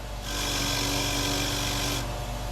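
Harbor Freight Bauer 8-inch variable-speed bench grinder grinding crusty, rusty metal, a steady loud hiss and whir that starts abruptly, holds for about two seconds and drops back to the motor hum.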